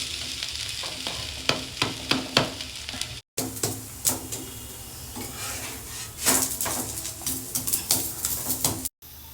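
Onion uttapam frying in oil and ghee on a pan gives a steady sizzle, broken by repeated light scraping and tapping of a utensil against the pan; no voices.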